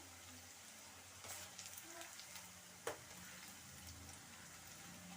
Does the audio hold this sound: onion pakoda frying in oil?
yes